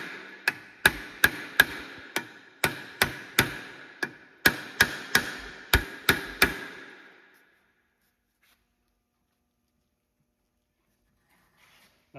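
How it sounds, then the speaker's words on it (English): A hammer strikes the brake rotor on the right rear hub of an AWD 2010-2022 Lexus RX350 to break it loose: about fifteen sharp, ringing metallic blows in uneven quick bursts, close and loud, then silence. "I'm just gonna give it a couple hits with the hammer to see if I can free it up."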